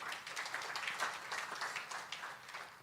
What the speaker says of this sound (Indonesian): Boleh tepuk tangan buat Tuhan, saudara.